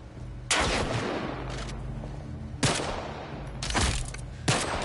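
Gunshots in The Last of Us video game: four sharp, loud shots at irregular intervals, each with a short echoing tail, over a steady low rumble of game ambience.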